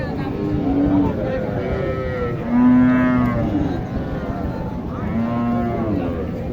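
A Sahiwal cow with her calf moos repeatedly at a busy cattle market, the long low calls loud and close over a steady crowd murmur and voices in the background.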